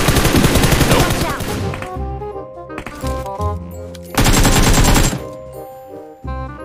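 Video game gunfire comes in loud automatic bursts, one long volley at the start, a short one midway and another near the end. Quieter gaps between them carry ringing, tonal game sounds.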